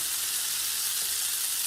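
Pasta and bacon frying in a pan for carbonara, a steady close crackling sizzle that continues evenly with no talk.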